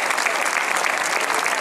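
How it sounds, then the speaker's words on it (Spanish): A live audience gives the band and orchestra a dense, steady round of applause at a town festival proclamation event, clapping loud and continuous throughout. "Por favor, un aplauso."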